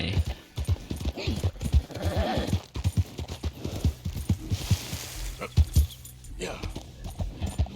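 A horse's hooves walk in Red Dead Redemption 2, clip-clopping in a steady, close, uneven rhythm throughout while someone talks over them.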